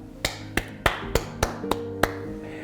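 Hands clap at the close of a church worship service, about seven sharp, evenly spaced claps that ring briefly, close and alone rather than a full crowd's applause.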